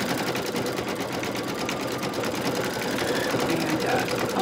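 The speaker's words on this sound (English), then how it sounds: "To me, it's a little mesmerizing to watch the machine do its work." Embroidery machine stitching a honeybee coaster in a hoop, a steady close mechanical whir with rapid needle chatter throughout, with a voice faintly present underneath.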